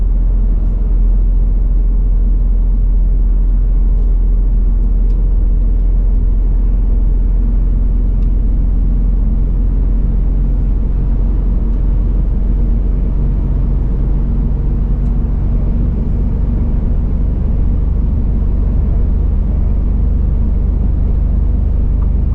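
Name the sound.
truck driving on the road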